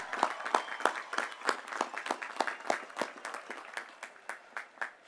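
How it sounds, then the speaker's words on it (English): Audience at a college commencement applauding with distinct, fairly sparse individual claps in an uneven rhythm, moderately near and steady for about five seconds with no talking over it. "Everybody clap, everybody,"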